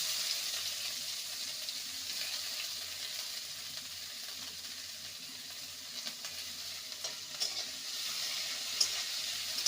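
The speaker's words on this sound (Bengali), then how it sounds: "পেঁয়াজটাকে ভেজে নেব তার সঙ্গে ভেজে নেব একটা মিডিয়াম সাইজের টমেটোকে" Chopped medium onion frying in a pan for an egg vapa curry, giving a steady, even sizzle with faint stirring scrapes and a few small clicks near the end, with no talking.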